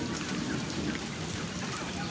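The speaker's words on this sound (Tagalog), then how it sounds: "medyo ano na yung ulan, humina na" Steady rain patters densely onto surfaces near a chicken coop, a continuous close hiss with no voices.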